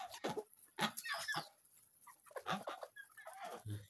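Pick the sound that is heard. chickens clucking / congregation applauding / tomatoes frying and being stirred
chickens clucking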